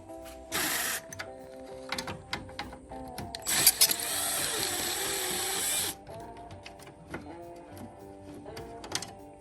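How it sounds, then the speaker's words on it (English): A power tool undoes 11mm bolts on the deer-damaged front end of a Ford F350 truck, with a short whirring burst and then a longer one of about two seconds, close, among light clanks of handling. "I'm going to try and undo those 11mm bolts"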